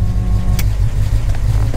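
A carbureted car engine runs warm at a steady idle, a loud, close, low rumble with an even throb and a faint click partway through.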